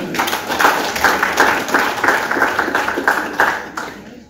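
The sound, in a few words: church congregation applauding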